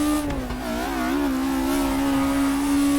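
A naturally aspirated race car engine in the RaceRoom hillclimb racing game holds a loud, steady high-pitched howl, dipping slightly before sustaining revs, close and continuous with no talk.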